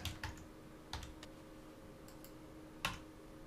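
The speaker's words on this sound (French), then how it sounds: "Ici, je vais taper mon sous-titre." Sparse clicks of typing on a computer keyboard, quiet and close, with a few separated keystrokes and a louder tap near the end.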